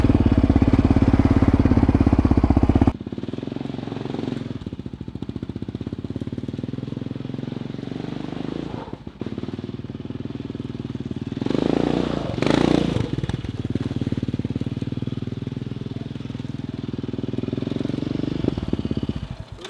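A quad bike (ATV) engine runs steadily nearby, a loud buzzing drone that drops after a few seconds, then holds with slight surges and a brief rise around the middle, with no voices over it.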